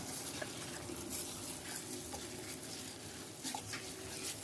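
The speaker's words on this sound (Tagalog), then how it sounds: "Mix, mix, mix." A spoon stirring a raw pork embutido mixture in a bowl, a soft continuous wet churning with faint scrapes, quiet and close.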